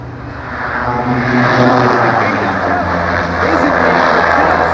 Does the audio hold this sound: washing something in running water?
no